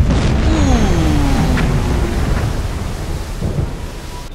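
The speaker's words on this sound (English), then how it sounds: "Torpedo impact." Heavy deep rumble of a torpedo striking a ship in Silent Hunter 4, a loud low boom that rolls on and slowly fades, with faint creaking overtones and no talking.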